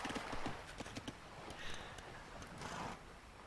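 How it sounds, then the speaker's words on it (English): Horse hooves clopping in Age of Empires II as a mounted unit chases a fishing ship, a quick run of hoof beats followed by softer game ambience and faint distant effects. "Chasing down a fishing ship on a horse."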